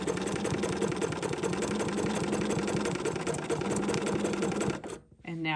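An embroidery sewing machine runs a steady, rapid stitching cycle, close and loud, with a fast mechanical needle rhythm that stops abruptly near the end, followed by a brief quiet tail.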